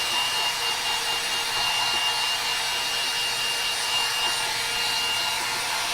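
A hair dryer blows steadily and close on a watercolor wedding card, a constant loud whirring hiss that runs through the whole stretch with no break and no talk.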